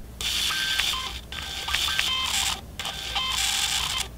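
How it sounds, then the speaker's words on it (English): Three bursts of buzzy, chirping electronic tones like an old dial-up modem, each about a second long with brief gaps between, from a Samsung A80 phone's flip-up camera motor. "if I hold the camera shut while trying to extend the camera, it makes noises akin to the dial-up era"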